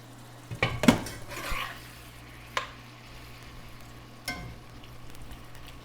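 Banana plant stems fry in a pan under a soft background sizzle, broken by a few sharp clanks and scrapes of a utensil against the cookware, with no one speaking.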